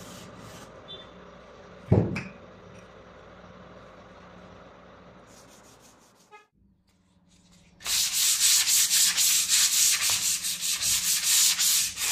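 After a quiet stretch with a few knocks, rhythmic rasping strokes of sanding old wood start up close by, loud and steady back-and-forth scrubbing.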